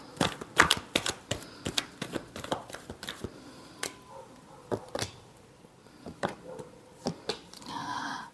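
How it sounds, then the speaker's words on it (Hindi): Tarot cards are shuffled by hand in a run of sharp, close riffling slaps and flutters, irregular bursts repeating through the stretch with short pauses between. "Last shuffle."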